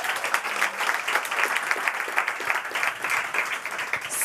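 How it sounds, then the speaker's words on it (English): Steady applause from an audience, a dense patter of many hands clapping continuously at moderate volume with no voices. "Give them a round of applause, everyone."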